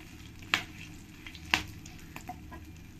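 Whole spices, bay leaves and dried red chilies fry in hot oil in a pan for chicken curry, a soft steady sizzle broken by two sharp clinks of a utensil against the pan.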